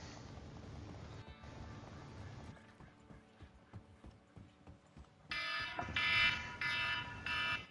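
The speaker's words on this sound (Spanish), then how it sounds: "Uy, sonó una alarma ahí, ¿eh?" A loud electronic alarm blares in the video game Red Dead Online. It comes in repeated pulses over a busy in-game scene of clattering footsteps and mechanical noise, after a stretch of background game sound.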